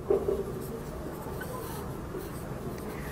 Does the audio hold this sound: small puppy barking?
no